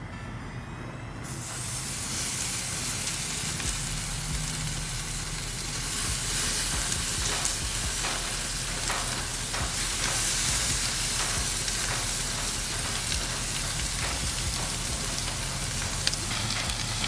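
Chicken kebabs sizzle and hiss steadily on a hot barbecue grill, a close, continuous frying crackle with faint popping, no voices.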